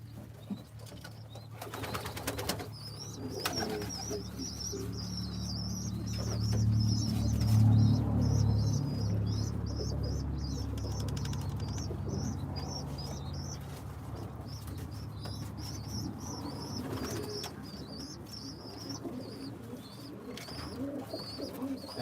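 Birmingham Roller pigeons flutter and coo, with low throaty cooing that swells in the middle and wingbeats flapping throughout, and a high bird chirp repeating in the background.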